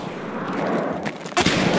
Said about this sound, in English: I'm getting shot from...